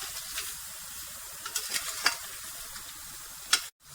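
Ground spice masala for haleem fries in oil in a pan, giving a steady quiet sizzle with a few soft spoon scrapes and taps, ending abruptly; no voices.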